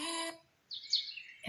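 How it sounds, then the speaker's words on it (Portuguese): Small birds twittering in a short burst of high, bright chirps, heard between stretches of a person talking. "os passarinhos estavam voando lá e cantarolando"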